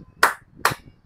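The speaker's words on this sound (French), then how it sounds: "Applaudissez pour lui." Three separate, sharp hand claps ring out slowly and evenly spaced, close and distinct against a quiet background, as an audience is urged to applaud a speaker.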